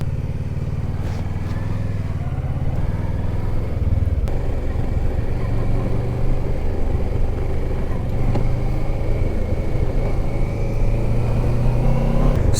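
Motorbike engine rumbles steadily while riding through Charnwood Forest, a close, continuous low drone with slight rises in revs and wind buffeting.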